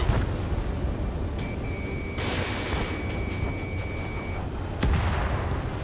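A fighter jet launches a missile in the video game Ace Combat 7, a rising whistle carried over a dense, continuous roar of combat noise, followed by a sharp blast near the end.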